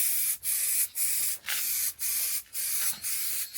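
A spray gun lays a thick coat of paint on a Mercedes W124 car in a series of loud, close hissing bursts, about seven in all, each lasting roughly half a second and split by brief pauses.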